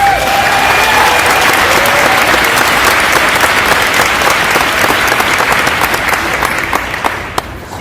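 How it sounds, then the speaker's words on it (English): An indoor audience breaks into sustained applause, a dense, loud wash of many hands clapping for several seconds before it begins to thin out toward the end. "So let's give them a round of applause."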